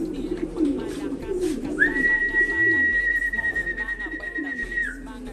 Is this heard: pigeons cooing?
yes